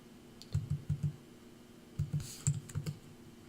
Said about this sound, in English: We simply type sort.